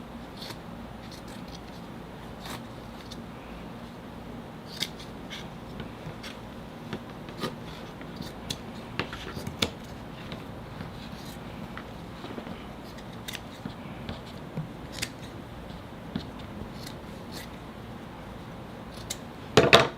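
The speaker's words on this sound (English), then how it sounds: "Grab my scissors," Scissors snipping fabric for a DIY Spring Bonnie mask, heard as sparse, quiet clicks and snips scattered across a hushed room, with no talking.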